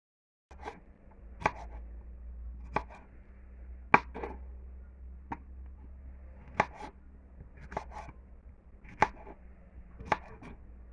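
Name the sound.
chopping ingredients with a knife for saltfish and okra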